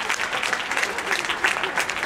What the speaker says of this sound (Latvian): Ar aplausiem atbalstīsim dejotājus.